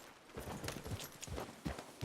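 Soft video game horse hoof clip-clops at an uneven walking pace, quiet and somewhat distant, with no talking.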